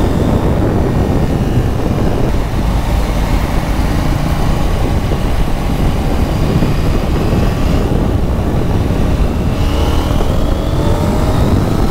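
KTM Duke 790 motorcycle riding through dense Manila traffic, a loud continuous engine roar with wind buffeting close to the rider, steady throughout with faint surrounding traffic underneath.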